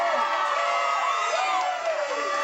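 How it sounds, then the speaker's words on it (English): A crowd cheers Tonya Harding's homecoming arrival in Portland after the Olympics, a dense mass of many voices shouting and whooping continuously close by. "Lots of cheering."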